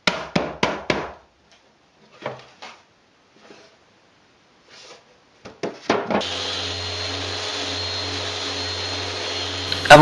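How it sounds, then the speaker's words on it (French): A power sander works over wooden furniture pieces, starting as a steady loud whir after a few scattered knocks and taps on wood, then running continuously to the end. "je fais un ponçage soigné de toutes les pièces"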